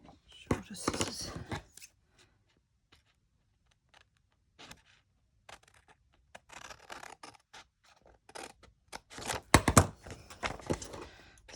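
Scissors snip and scratch through paper in short bursts, close by and fairly quiet, with pauses between cuts.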